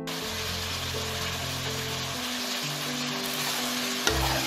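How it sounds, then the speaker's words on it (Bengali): Washed, drained mutton pieces frying in hot oil for Kashmiri rogan josh, stirred in the pan with a dense, continuous sizzle and low stirring scrapes, close and fairly loud, one brief knock near the end, no voices. "এবার এই মাটনটাকেও আমি 5 থেকে 7 মিনিট তেলে নাড়াচাড়া করে নেব।"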